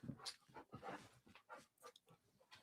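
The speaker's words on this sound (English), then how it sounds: "I got to let the dog out." Dog panting and whimpering close by indoors in quiet, soft irregular breaths and small whines spread across a few seconds.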